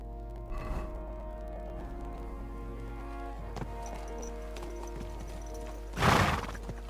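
A horse in a medieval open-world game, with steady clip-clopping hooves under ambient music, then a loud, close neigh near the end.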